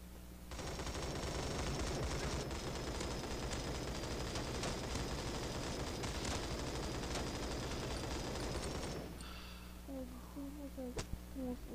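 Sustained M4 rifle fire rattles continuously for about nine seconds in the Bullet Force shooter game, loud and dense, then cuts off into quieter game sounds and scattered clicks.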